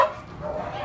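Dogs at an animal shelter give a brief bark or yelp, close and moderately loud, fading into kennel background noise in under a second.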